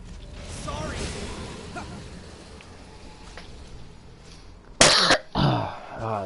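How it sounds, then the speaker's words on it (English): A man coughs and clears his throat, a couple of harsh, loud bursts up close near the end, following a stretch of muffled game sound and talk. "And this freaking cough is killing me."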